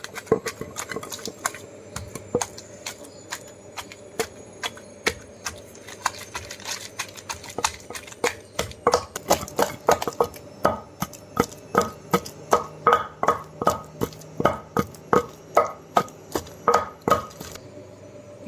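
Green chilies and gongura leaves being pounded in a mortar for a sesame chutney, with steady rhythmic thuds that get louder and more regular, heard close with no talking.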